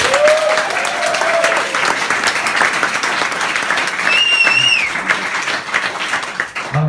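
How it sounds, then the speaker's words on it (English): Applause from wedding guests during a best man's speech fills the room, dense steady clapping close by with faint voices and whoops rising briefly underneath. "can we all just have a round of applause"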